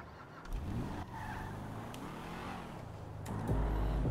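Nissan GT-R driven in Grand Theft Auto V, a steady game engine drone with a sharp rev surge near the end, loud and alone in the mix.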